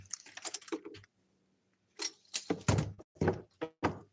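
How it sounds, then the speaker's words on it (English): A hotel-style door handle is jiggled and pushed but will not click down. It makes a quick series of sharp, close rattling thunks and clacks in two clusters separated by a brief silence. "the handle won't click down."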